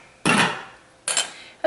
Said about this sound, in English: Cover my pan, make it go faster.